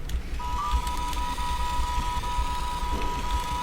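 A robot companion in the video game 7th Sector gives a steady, sustained electronic tone over a constant low rumbling game ambience.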